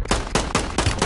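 Rapid gunfire in Call of Duty Warzone on Rebirth Island, several loud sharp shots in a quick irregular burst.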